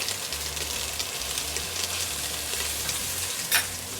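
Ginger, garlic, curry paste and onions sizzle steadily in a pan, a close and constant frying hiss with a short louder crackle near the end and no talk.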